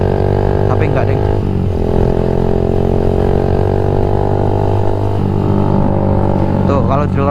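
A Yamaha MX King 150 motorcycle fitted with a UB Bpro racing exhaust drones loudly and steadily close by, its engine note shifting slightly as the throttle changes, with a voice talking over it.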